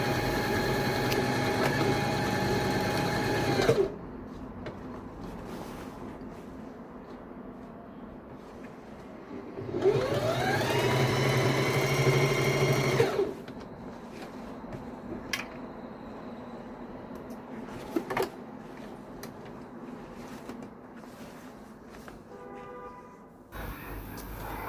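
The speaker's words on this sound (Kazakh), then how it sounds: "сонымен ремешогымызды әдемілеп мінекей бастыра тігіп алдық" A sewing machine runs in bursts while stitching down a bag strap, close and steady during each run with a rising whir at the start of the second burst, separated by quieter pauses with small clicks and handling noises.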